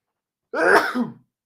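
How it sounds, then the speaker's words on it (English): Single short sneeze, an abrupt loud burst of breath and voice lasting under a second, close up with silence before and after. "So excited that I sneezed."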